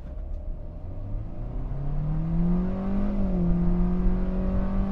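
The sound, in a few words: 2023 Hyundai Stargazer accelerating in sport mode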